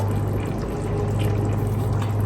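Canned beans are poured with their liquid into a pot of homemade chili, making a short, close, steady wet glugging pour.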